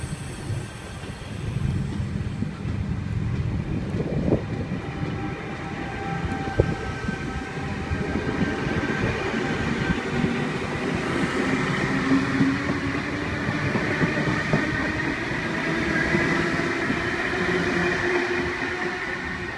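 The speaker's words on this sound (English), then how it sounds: "Central Sydney Terminal service departing platform number 1." Sydney Trains service pulling out from a platform at Tuggerah station, a steady rumbling roll with the rising hum of traction motors, heard at close range without speech.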